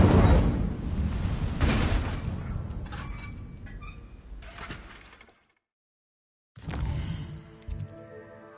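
An Incendio fire spell in the Hogwarts Legacy game bursts out as a loud whooshing blast with a rumbling tail. The sound fades into a brief silence, then a second flaring burst with scattered crackling effects follows.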